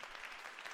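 Game audience at a school play claps in a brief, quiet burst of many hands, a soft even patter with no voices.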